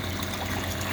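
A 12V DC water pump with filtration system running in an off-grid cabin, a steady low hum mixed with churning water noise, continuous and close.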